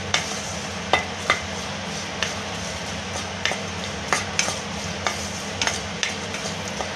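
Green chillies dry-roasting in an oil-free pan for gongura pickle, with a soft steady rustle and regular light scrapes of a spatula about once a second, close and moderately quiet.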